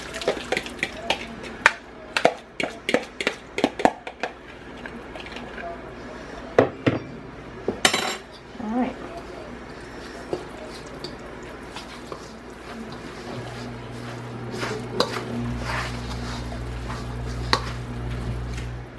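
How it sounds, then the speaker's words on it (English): Wet mixture being stirred into dry ingredients in a bowl for vegan brisket dough, with a run of sharp spoon knocks and clacks early on, then softer squishy mixing and a low steady hum. "now I'm adding this wet mixture into my dry, and I'm going to mix that up until it's well blended and dough-like consistency"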